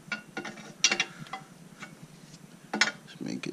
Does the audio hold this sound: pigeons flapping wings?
no